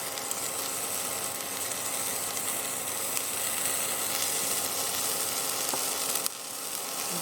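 Chopped drumstick leaves sauté in a hot pan, giving a steady, close sizzle with occasional scraping and stirring clicks and one louder clatter near the end.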